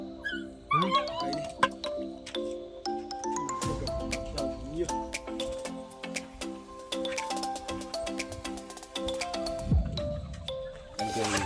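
A dog on a poultry farm whimpers and yips in short bursts, with occasional barks amid background sounds and brief voices.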